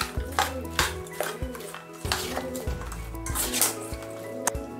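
Ivy gourd with a little salt being stirred in a pan, a utensil scraping and clinking against the metal in repeated short strokes, close and moderately loud with no voices.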